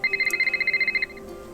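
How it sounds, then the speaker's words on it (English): A phone in a Nancy Drew mystery video game rings with a rapid electronic trill of evenly pulsed beeps for about a second, clear and close, then stops. "Oh, phone call."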